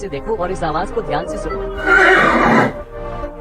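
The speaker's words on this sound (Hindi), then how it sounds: "ये आवाज थी घोड़े की।" A horse whinnies loudly for about a second, a rising and falling neigh in the middle of the clip, with a person talking before and after it.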